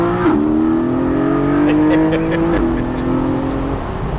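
A Porsche 718 Spyder's naturally aspirated flat engine revving loudly up through its range with steady rising pitch, a brief drop at a gear change, then climbing again, close and continuous.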